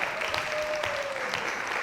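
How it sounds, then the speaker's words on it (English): An audience at a political event applauds for Matt Shaheen, the Republican nominee for Texas House District 66, giving steady, dense clapping that runs unbroken and fairly loud from start to end. "Everyone give a warm round of applause for Matt Shaheen."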